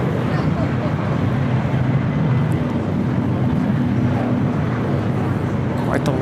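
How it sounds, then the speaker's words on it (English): An Airbus A330-300 freighter takes off at LAX, a loud, steady broadband roar of jet engines that holds at full strength without pause, with a faint voice talking over it. "The A330-300 freighter going to be taking off to Monterrey."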